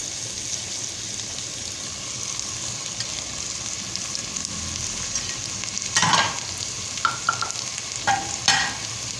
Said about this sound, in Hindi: इसमें आलू डाल देंगे और आलू को फ्राई करेंगे